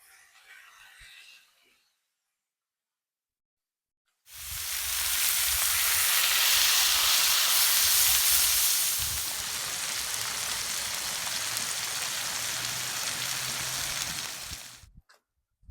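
Flour tortillas smashed onto a Blackstone griddle for tacos hit the hot surface with a sudden loud sizzle after a short quiet. The close, steady frying hiss holds for about ten seconds and then stops abruptly.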